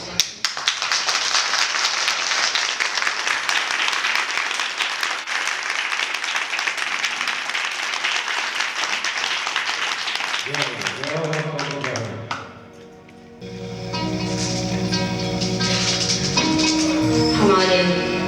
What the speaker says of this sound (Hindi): देखिए तालियों में वो गूंज नहीं है जो मैं बोल सकती।